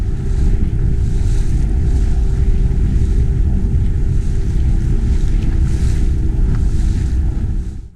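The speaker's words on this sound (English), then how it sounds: "my new Quicksilver 420 aluminium hull drib, powered by its 25 horsepower Mariner 2-stroke" A Quicksilver 420 aluminium inflatable boat runs on a 25 hp Mariner two-stroke outboard on wet, windy water. A loud, steady low engine drone and heavy rushing wind buffet continue throughout, with no voices.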